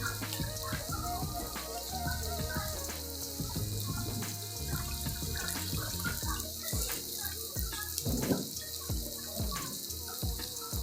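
Soaked rice is washed under running tap water for leaf fritters, with water splashing and trickling in a sink, irregular clinks and sloshes from handling the grains over a steady faint flow.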